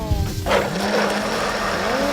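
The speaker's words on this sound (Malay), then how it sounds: "Kita kisar sampai lumat." A blender motor whirs loudly and continuously as it purées with water until smooth, its pitch wavering slightly as it churns, with a brief thump near the start.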